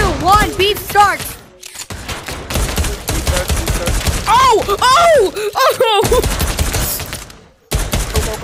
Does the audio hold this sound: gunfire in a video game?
yes